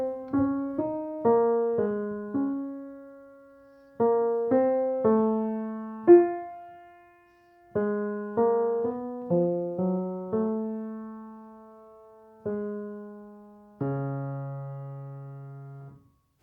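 One English horn and a viola section play the opening Romeo theme from Tchaikovsky's Romeo and Juliet Overture-Fantasy: slow, sustained melodic phrases over held lower notes, swelling and fading in clear, unaccompanied-sounding orchestral lines.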